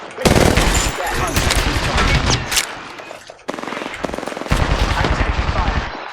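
Rapid machine gun fire in Apex Legends rattles in dense, loud bursts during a 3v3 match, with a brief pause midway before the shooting resumes.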